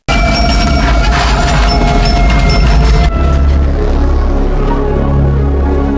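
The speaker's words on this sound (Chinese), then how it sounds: "敌我不分，疯狂地扫射，直接把海盗头领的船也炸了" A pirate leader's boat blows up amid frantic gunfire in a film, heard as a loud, sustained wall of explosive rumble and crackling blasts, with a sharp break midway before the deep roar continues.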